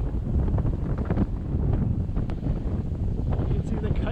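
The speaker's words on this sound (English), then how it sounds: "the wind is brutal here" Strong beach wind buffets the microphone in a constant loud low roar, with faint crackles and a hint of surf beneath, on a sandy shore where kite surfers ride.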